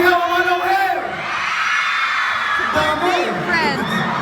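A live crowd at a boy band concert during a strawberry festival yells and whoops loudly in reply to a performer's call, the cheering swelling in two bursts with the performer's voice heard between them.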